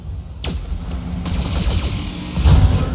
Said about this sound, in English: Let's just open fire and be done with this thing.